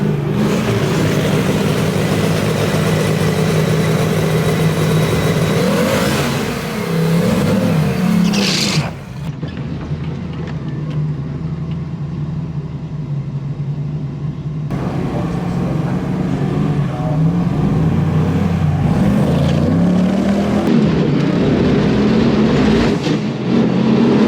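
A 1000 bhp LS-swapped Datsun 280Z roars down a drag strip, its loud engine building hard, cutting briefly between gears, then pulling on again for a sustained high-revving run with no talking.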